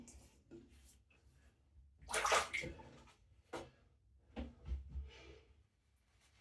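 Water splashes and sloshes in a basin as hands dampen a face, a few irregular wet bursts close by with quiet gaps between them.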